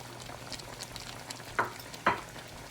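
A pot of Jamaican cow foot being stirred after seasoning goes in, with two distinct scraping spoon strokes against the pot over a low steady simmering background, close and fairly quiet.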